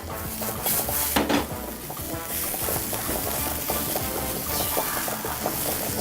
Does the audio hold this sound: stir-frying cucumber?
yes